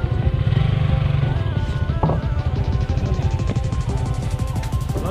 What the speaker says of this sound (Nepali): बाइकहरू निस्किँदैछ